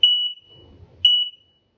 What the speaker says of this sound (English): the alarm obviously is kind of piercing